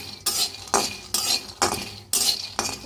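Peanuts fried in a pan and stirred with a metal spoon: rhythmic scraping and clinking strokes roughly every half second, close and fairly loud over a light sizzle, no voices.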